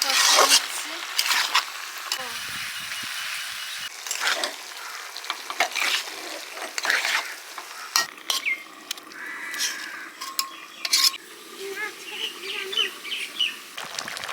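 Pui shak (Malabar spinach) curry with shrimp stirred in a frying pan, repeated scraping strokes over a steady sizzle, with a voice talking intermittently.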